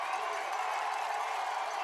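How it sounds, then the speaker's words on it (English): A high school football crowd roars in a steady, dense wash of cheering and shouting at a Troup County versus Harris County game, heard from a distance and sustained without a break. "Crowd making all kind of noise."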